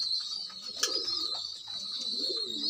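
A young pigeon with pin-feather plumage, held in a hand, gives soft warbling coos, two rising-and-falling phrases over steady faint background hiss.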